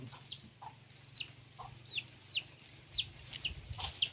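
Chickens cluck in short, sharp calls repeating about every half second, fairly faint over a low steady hum, with no voices.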